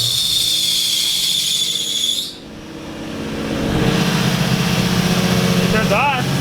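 An Infiniti G35 with a newly fitted Kinetix Velocity intake manifold starts and settles into a low, steady idle after a high whine cuts off, with voices heard nearby.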